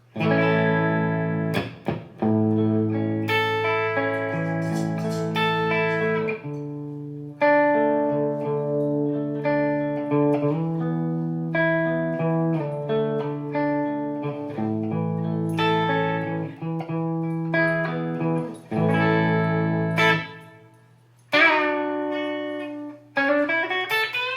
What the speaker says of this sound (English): this is a typical Vox AC30 with a little bit of small hall reverb